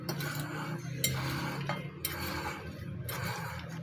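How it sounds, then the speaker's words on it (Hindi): Ginger pickle with ajwain and salt being mixed, a utensil scraping and clinking against the container in repeated strokes, close and fairly loud, with no voices. "और नमक मिक्स कर देते हैं इनको"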